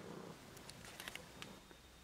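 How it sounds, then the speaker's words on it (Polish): A cat purrs softly nearby: a quiet, steady low rumble with a few faint clicks and no speech. "świąteczny kotek tutaj"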